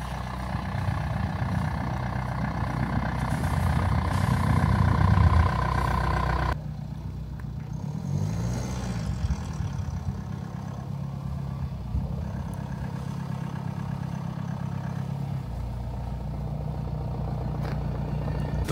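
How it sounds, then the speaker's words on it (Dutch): A BMW X2 drives out through packed snow, its engine rumbling loudly nearby with a low steady drone, then a sudden change partway as the car moves off and the tone shifts and continues. "we gaan die auto buiten rijden door dit sneeuwpak"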